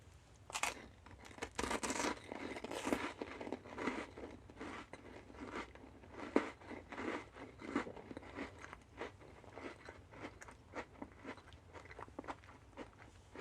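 Puffy, crunchy Twix-flavored candy is chewed close up, with a steady run of crisp bites and crunches repeating every half second or so over about thirteen seconds, with no talking.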